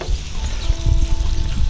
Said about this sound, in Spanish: Lo removemos un poquito con mucho cuidado que no se nos queme